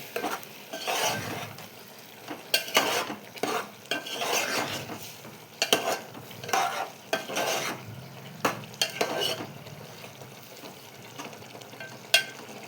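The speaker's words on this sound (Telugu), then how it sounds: "ఈ మిల్ మేకర్ని ఈ మగ్గుతున్న ఈ టమాటా ప్యూరీలోకి యాడ్ చేసుకోవాలి. వేసుకొని బాగా కలుపుకోవాలి." Meal maker soya chunks being stirred into simmering tomato puree in a pan, with repeated scraping strokes of a spoon and a soft sizzle underneath, close and fairly quiet.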